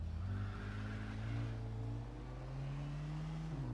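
A car engine idling and revving in Mafia 2, a steady low hum that rises slowly in pitch and then drops near the end, continuous and fairly quiet.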